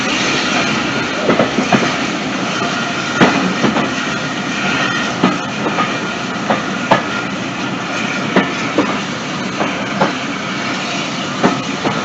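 A train rolls past at the North Norfolk Railway Spring Steam Gala, with loud, steady clickety-clack from its wheels and regular rail-joint knocks over a constant rumble.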